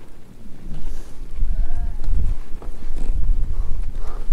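Several sheep and goats bleat near and far amid rustling and trampling of a moving flock outdoors.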